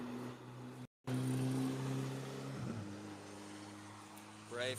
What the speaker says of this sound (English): There's a lot of Ferraris on track today.